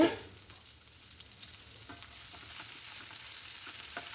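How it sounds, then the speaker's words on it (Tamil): Onion, garlic and curry leaves sautéing in a pan, a steady close sizzle with scattered clicks of a spatula stirring against the pan, no voices. "கருவேப்பிலையும் சேர்த்து நல்லா வதக்கி விட்டுருங்க"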